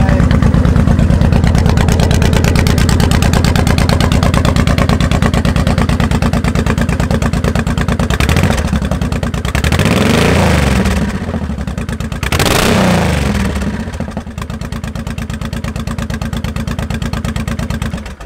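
A 2003 Honda VTX 1800, a fuel-injected motorcycle, runs loud and close with a steady throbbing idle, then two sharp revs swell and fall back before it settles into idle again.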